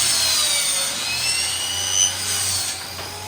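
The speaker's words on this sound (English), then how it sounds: "this is just a scrap piece of plywood. I'm just gonna cut it like 2 inches thick" Power saw cutting through a scrap piece of plywood, a loud, steady high whine with a rough grinding edge that holds through the cut and eases off near the end.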